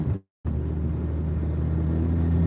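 A BMW 335d diesel with a massive boost leak hums as a steady low rumble, heard close and continuous after a brief dropout.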